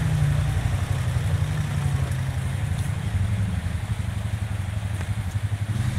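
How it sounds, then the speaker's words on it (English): A 2016 or 2017 Honda Rancher ATV engine runs steadily at a low, even idle, its deep rumble loud and continuous throughout with no talking. "Honda Rancher."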